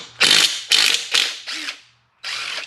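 Ratchet wrench fitted with a 1/2 inch socket working on the primary bolts of a Harley Davidson: four quick close-up bursts of rapid clicking, a short pause, then a fifth burst.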